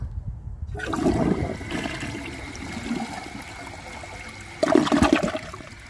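A Delta Corrente toilet flushes a washcloth in a grocery bag with a sudden loud rush of water, a sustained swirling drain, then a second surge before the flow trails off.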